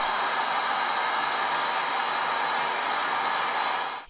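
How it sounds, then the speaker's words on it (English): A heat gun blows a steady, loud hiss of air onto a painted sneaker during a Jordan 5 restoration, running continuously up close before cutting off at the end. "And like before, we can also use a heat gun."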